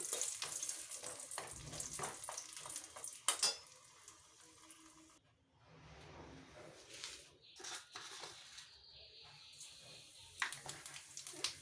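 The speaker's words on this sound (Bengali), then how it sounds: "বড়িটা ভেজে নিচ্ছি" Bori, small lentil dumplings, frying in hot oil in a home kitchen, a steady broad sizzle with occasional clinks of a utensil against the pan, dipping quieter midway before picking up again.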